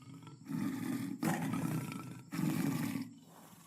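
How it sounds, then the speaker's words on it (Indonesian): Tiger roaring, three long, loud, deep roars in a row separated by short gaps, close and alone with no talking. "ada harimau"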